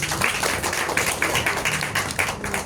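An audience claps together at an interactive dialogue event on nationalism, a steady patter of many hands held at an even level for a few seconds with no talk.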